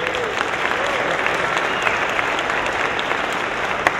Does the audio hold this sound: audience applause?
yes